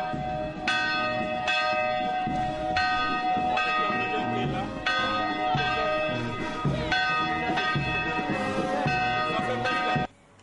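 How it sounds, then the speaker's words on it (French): The bell of Sainte-Thérèse de l'Enfant Jésus church in Batambenge rings loudly and continuously, with strong, regular clangs and overlapping resonant tones that stop abruptly at the end. "la sonnette de la cloche de l'église Sainte-Thérèse de l'Enfant Jésus"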